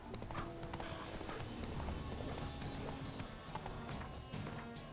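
Hooves of the horse Scorpion clip-clop steadily in The Witcher 3: Wild Hunt, a continuous rhythmic trot heard close up over a dense game soundscape, with no talking.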